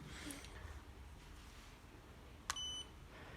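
A single short electronic beep from a Becker EC513 code-lock keypad sounds near the end, a sharp clean tone over faint background hiss, preceded by a quiet click.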